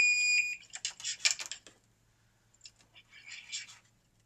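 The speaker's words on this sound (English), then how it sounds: "There's our alarm." Electronic fire alarm station being tested after wiring, a sharp high beep followed by bursts of shrill, pulsing alarm tones at close range with faint voices underneath.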